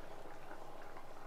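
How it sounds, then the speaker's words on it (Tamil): Mung bean curry (paasipayaru kuzhambu) at a rolling boil in a pot, a dense continuous bubbling and gurgling that stays close and steady throughout with no voices. "சூப்பராக ரெடி ஆயிடுச்சு, நல்லா கொதிக்குது,"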